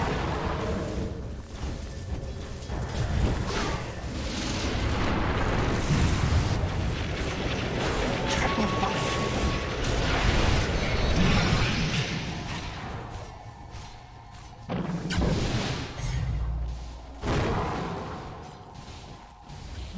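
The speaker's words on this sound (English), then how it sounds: "Radiant's middle tower is under attack" Dota 2 battle around a middle tower, dense layered explosions, whooshing spell effects and booming impacts that swell and ebb, loud and busy throughout.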